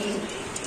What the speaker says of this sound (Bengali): দর্শক আমরা দেখেন একটা মালটেজ কবুতর